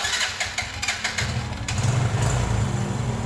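A Yamaha Jupiter Z1 motorcycle engine cranks over with a few rapid starter pulses, then catches and settles into a steady, close idle, with no talking.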